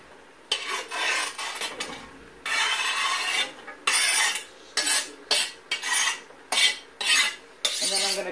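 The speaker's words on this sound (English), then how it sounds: "I'm going to put the onion in the pot and brown the onions" Ground beef and onions being browned in a pot, stirred with a utensil: repeated loud scraping strokes against the pot come in uneven bursts, close up, with no talking.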